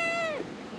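A single clear cat meow, rising then falling in pitch, close and fairly loud, fading out after less than half a second.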